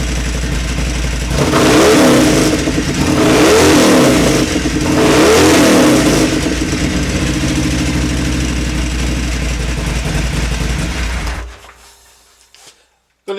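A motorcycle fitted with a newly installed Vance and Hines air filter runs loudly up close, its engine rising in three strong revs over a steady idle before shutting off near the end.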